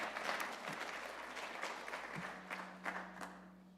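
A book event audience gives faint, scattered hand clapping that thins out into a few sparse claps, heard distant and quiet.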